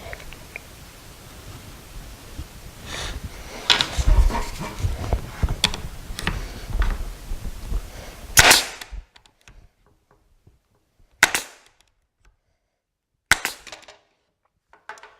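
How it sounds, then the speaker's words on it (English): A stapler drives 1-inch staples into glued wooden pieces of a decorative window shelf, sharp close snaps among quieter handling clatter, then a few isolated shots separated by silence. "I'm just going to put some glue on these things and staple them in place. I'm using 1-inch staples."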